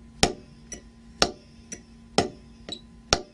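Drumstick strokes played without catching the rebound, with traditional grip: loud accented hits alternate with softer bounced taps in a steady pattern, close and crisp with no voices.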